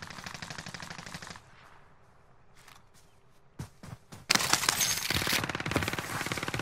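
Automatic gunfire in the Warzone video game, rapid machine-gun bursts at the start, a few isolated shots in a quieter middle, then a long loud sustained volley at close range.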